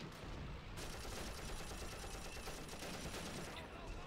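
Rapid, dense gunfire from the World War II shooter game Call of Duty: United Offensive, including machine-gun bursts, roars continuously and loudly for several seconds, filling the whole soundscape.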